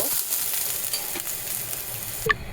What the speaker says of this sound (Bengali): রসুন আর হচ্ছে কাঁচামরিচ একসাথেই ভাজবো